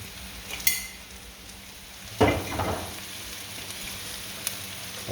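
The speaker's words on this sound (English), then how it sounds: "I'll put my curry in at this stage to ensure that my curry powder is properly cooked out." Curry powder and shrimp fry in a pan for a Jamaican coconut curry, giving a steady close sizzle, with a few brief clinks and a scraping stir of a utensil against the pan midway.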